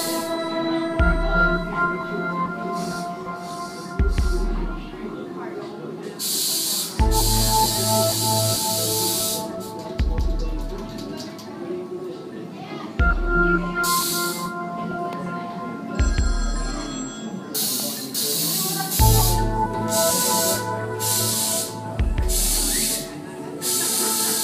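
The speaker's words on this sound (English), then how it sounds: "Spray paint." Spray paint can hissing in the Ripley's Believe It Or Not 3 game, heard as several separate bursts of bright hiss, some short and some longer, over steady background music tones.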